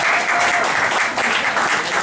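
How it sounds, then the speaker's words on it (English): A room of people gives a round of applause for the CEO of SmartBuyGlasses at a Hong Kong business networking event, a full, steady wash of clapping lasting about two seconds with a faint whoop or voice underneath. "I want a big round of applause for CEO of SmartBuyGlasses, David Manning"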